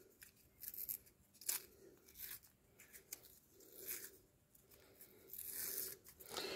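Foundation paper is torn away from a fabric quilt block in a series of soft, close rips and crinkles, irregular and quiet, with no talking.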